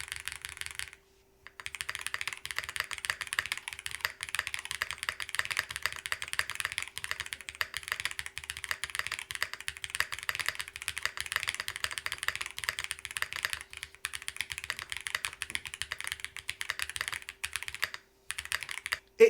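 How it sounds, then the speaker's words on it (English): Close, steady typing on a mechanical keyboard built with WS Pearl switches, GMK keycaps and foam fill gives a fast run of soft, even clacks with one short pause early on and no voices. "We're using the WS Pearl switches, GMK keycaps, all the foams."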